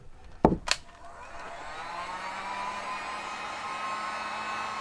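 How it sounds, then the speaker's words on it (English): After a couple of sharp clicks, a heat gun used to dry paint on an artwork spins up and settles into a steady, fairly quiet whirring hiss with a faint whine that continues to the end. "So heat gun."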